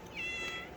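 A cat in a garage during a Nissan GTR transmission swap gives one short, quiet meow.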